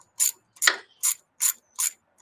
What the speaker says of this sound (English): this quarter inch drive socket wrench is way easier to use with these hose clamps